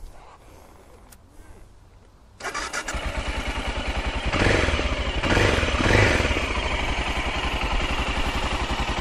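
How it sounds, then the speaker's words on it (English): A stock-muffler 1996 BMW F 650 motorcycle engine cranks and starts after a quiet moment, then settles into a steady, loud, close pulsing idle with a couple of brief blips. "let's start the engine now and listen the sound"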